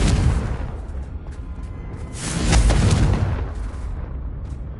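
A Confringo blast spell explodes in Hogwarts Legacy with a dense, booming burst that swells to a peak midway and then trails off into a rumbling decay.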